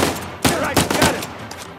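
Gunfire in the video game Uncharted, a few sharp, close shots ringing out in quick succession amid the action.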